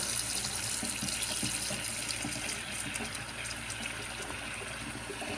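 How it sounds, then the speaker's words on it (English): Cold tap water runs steadily into a sink over boiled eggs, a continuous close splashing hiss with no pauses and no voices. "run it under cold water"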